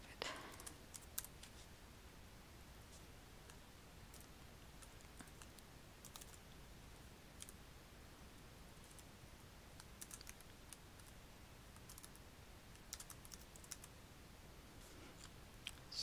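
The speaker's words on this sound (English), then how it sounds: "Okay, I just type." Typing on a computer keyboard, faint clusters of quick clicking keystrokes in irregular bursts, recorded close but quiet in an otherwise still room.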